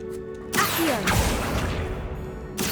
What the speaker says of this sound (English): Accio!